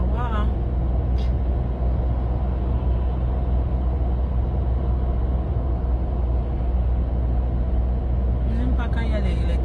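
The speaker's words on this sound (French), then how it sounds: "Je n'aime pas quand il y a les camions devant moi." Truck on the road ahead, a steady low rumble of traffic heard from inside a moving car, constant and fairly loud, with a brief hiss near the end and a voice talking faintly.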